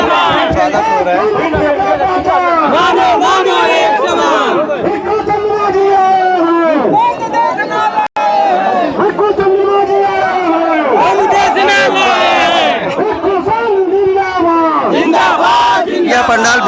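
A large, dense crowd fills a packed pandal at a Buddhist gathering in Mau, with loud continuous voices, chatter and shouting rising and falling in waves around the listener.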